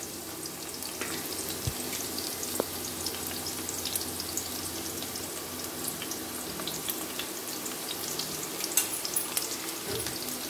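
Cumin and mustard seeds fry in hot oil for an Andhra-style chana dal and fresh coconut curry, making a steady soft sizzle with scattered crackles and pops as they are stirred.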